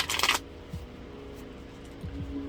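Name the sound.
shuffling tarot cards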